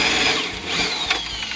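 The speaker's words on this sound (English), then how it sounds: "it's pretty slick there, right there where he's trying to drill" Power drill boring a hole through the body of a repurposed refrigerator, a steady close whine with a gritty, buzzing tone that runs unbroken and loud, with a brief spike near the end.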